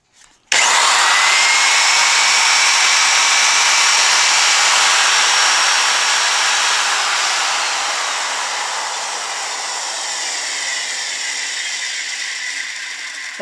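A Milwaukee router switches on abruptly and runs at full speed, around 26,000 RPM, holding a loud, steady high-pitched whine that eases slightly partway through, close and alone without talking.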